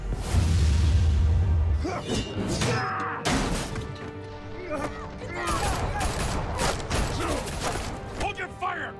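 Gunfire erupts in the Batman Telltale game, with rapid bursts, metallic clatter, crashes and whooshes layered over dramatic background sound, loud and close throughout.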